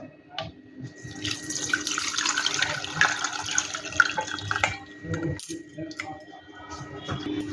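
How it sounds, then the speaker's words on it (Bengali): Fresh chhana for nolen gurer sandesh being strained through a sieve as whey drains away, a continuous close splashing and trickling of water with a few clinks and soft bumps. "এবারে বন্ধুরা, ছানাটা আমি একটি ছাঁকুনির সাহায্যে ছেঁকে নেব, ঠিক এইভাবে।"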